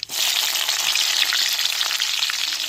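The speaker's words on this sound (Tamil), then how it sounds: "ரெண்டு பச்சை மிளகாய் சேர்த்துக்கிறோம்" Two green chillies hit hot oil with urad dal in a pan, setting off a loud, dense, continuous sizzle right from the start. The hiss is close and runs without pause, with no voices.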